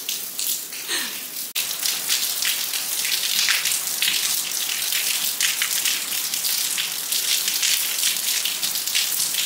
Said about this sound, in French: Je sais même pas si vous m'entendez avec la pluie.